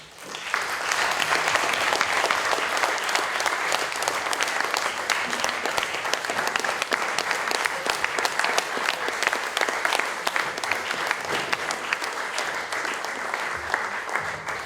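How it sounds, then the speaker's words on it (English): Audience applause at a Yad Vashem Righteous Among Nations ceremony, sustained even clapping from a sizable crowd lasting about fifteen seconds. "So I think we should applaud you too."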